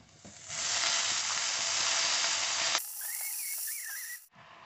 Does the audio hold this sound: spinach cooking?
yes